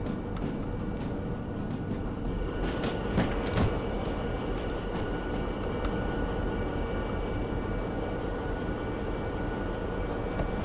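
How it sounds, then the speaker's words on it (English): Locomotive running in the Derail Valley game, a steady low rumbling drone with rail clatter, a few sharp metallic knocks early on, and a faint high whine building later. "What a beast mode of a locomotive."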